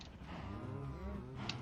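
A cow lows in the game Minecraft on a cow farm, one drawn-out moo at steady moderate volume over a background of game sound, with no talking.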